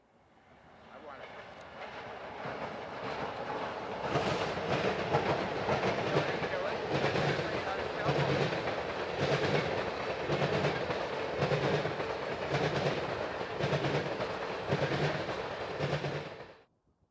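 Canadian Pacific freight train led by a pair of EMD 20C-Eco locomotives rolling past, steady rumble with rhythmic clickety-clack of wagons on rail joints, swelling in and fading at the end.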